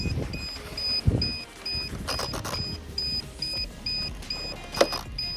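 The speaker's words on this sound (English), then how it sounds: "the low voltage alarm's going off." Low voltage alarm on a Traxxas Bandit RC car fitted with a Hot Racing 72t spur and 38t pinion, beeping in a steady repeating pattern of short high tones, fairly close, over wind and outdoor rustling.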